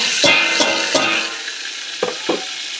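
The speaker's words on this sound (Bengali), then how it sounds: "এরও পেঁয়াজগুলো একটু লাল লাল ভাজা হয়ে আসবে" Onions sizzle in hot oil in a kadai while a utensil scrapes and knocks against the pan, giving five distinct stirring clacks over a steady frying hiss.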